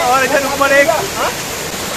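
Cold water pouring down a waterfall, a steady broad rushing roar close by that persists throughout, with someone speaking over it.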